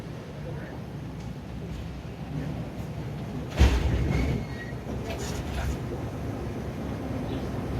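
Chenab Express standing at Jodhpur Karnana station, a low steady rumble of idling train and platform ambience with a brief louder clank midway, under a voice.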